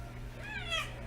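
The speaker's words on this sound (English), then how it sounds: "This is my cat, Blue." A pet cat gives a single drawn-out meow close by, rising and then falling, over a low steady hum in a room.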